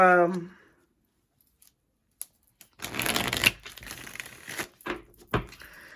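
A brief voice fades out, then after a pause tarot cards are riffled and shuffled close by, a crisp flapping rustle in several bursts.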